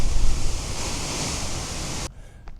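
Ocean surf near the Devil's Hole on the Moroccan coast roars as a loud, broad crashing wash with wind buffeting, then cuts off abruptly near the end.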